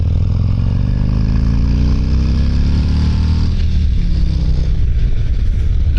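A 2023 Harley-Davidson Road King Special with a 114 engine rumbles steadily on a road ride, the deep engine note rising as it accelerates and then settling into a constant drone mixed with wind noise.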